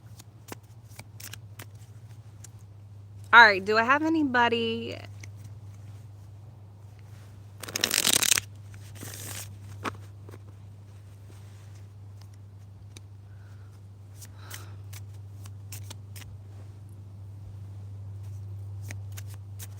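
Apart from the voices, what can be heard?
shuffling a deck of cards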